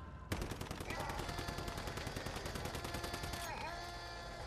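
Rapid automatic gunfire from steel and tungsten ammunition in the survival shooter Once Human, a loud sustained burst of closely spaced shots lasting about three seconds before cutting off.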